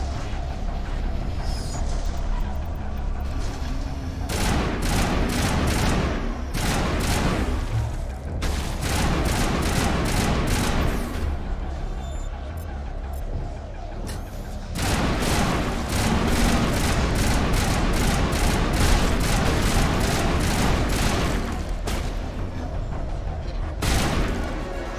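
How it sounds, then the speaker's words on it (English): Explosive grenades detonate amid sustained gunfire in a Mass Effect firefight, with dense bursts of shots and heavy booms crowding one another close and loud for the whole stretch, barely pausing between volleys. "Those are explosive grenades."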